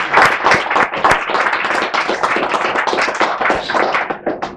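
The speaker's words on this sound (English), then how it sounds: "let's give David a round of applause for winning the Pulitzer Prize" Loud, close audience applause for author David Blight, Pulitzer Prize winner for a Frederick Douglass biography, with dense, sharp hand claps sustained evenly throughout.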